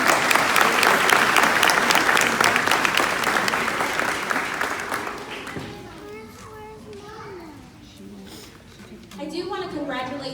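Audience applause at a US citizenship naturalization ceremony at a Dallas field office, with dense clapping loud for the first five seconds before it thins into scattered claps under children's voices and chatter, then swelling slightly again.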